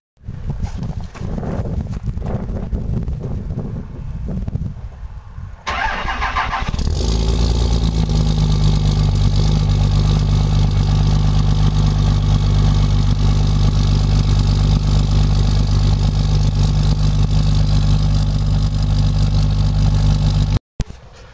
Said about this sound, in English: Right up the high idle. Now that's one cold start.